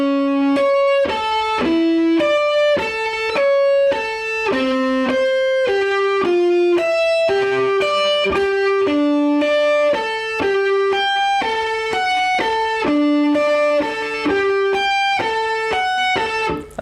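An electric guitar slowly picks a riff as a steady run of single notes that repeats and cycles for about seventeen seconds, clear and up front, with no voices.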